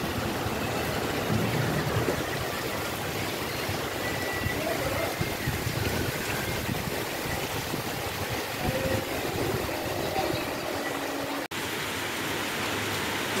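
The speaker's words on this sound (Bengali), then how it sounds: "এরকম মুষলধারে বৃষ্টি হচ্ছে এখন" Heavy monsoon downpour lashing a flooding lane with gusting wind, a dense, steady roar of rain that holds unbroken throughout, close and loud with no voices.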